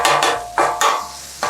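Cheesesteak meat and sliced cheese being mixed with a metal spatula on a hot griddle that has been switched off, making a few scraping strokes with a faint sizzle underneath.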